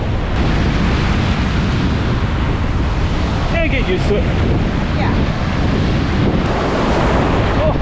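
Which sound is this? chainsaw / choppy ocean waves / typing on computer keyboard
choppy ocean waves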